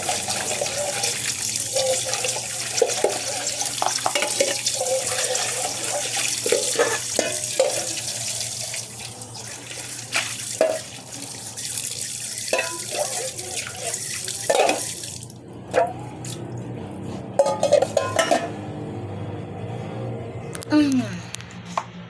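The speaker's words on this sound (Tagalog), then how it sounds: "Para limpyo ang ako ang kaldero." Running tap water splashes steadily into a sink while a cooking pot is scrubbed and knocked, with clatters and a brief pause before the water resumes.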